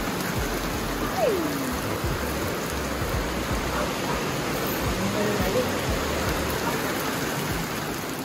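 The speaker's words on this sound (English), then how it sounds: "here in the afternoon, just a complete downpour" Steady, dense hiss of heavy rain pouring down, loud and continuous throughout, with no voices.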